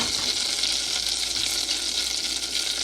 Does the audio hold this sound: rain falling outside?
no